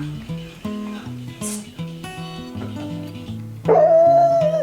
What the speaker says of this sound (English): You're not supposed to bark at every little thing you hear.